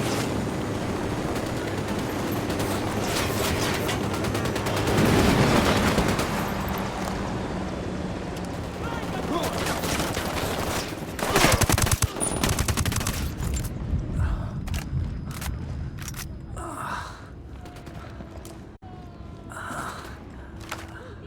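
Heavy gunfire from the video game Ghost Recon Wildlands, a sustained loud barrage of rifle bursts that thins into scattered, sharper individual shots with quieter gaps toward the end.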